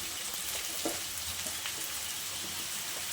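Pointed gourd (potol) frying in hot oil with yardlong beans for a pui shak dish, a steady close sizzle with light stirring scrapes and no talking.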